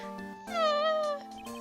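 A cartoon cat named Shoo in Ace Attorney: Justice For All gives one long, rising and falling meow between short softer chirps, clear and close with a faint steady tone beneath.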